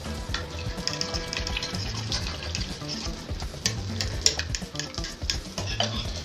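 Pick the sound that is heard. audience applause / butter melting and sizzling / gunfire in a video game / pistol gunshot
butter melting and sizzling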